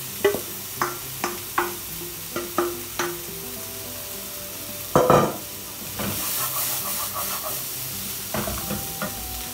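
Cauliflower fried rice mixture sizzles in a hot pan while a utensil scrapes and stirs in quick, regular strokes, followed by louder clanks and a swell of frying.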